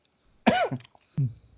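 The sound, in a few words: cough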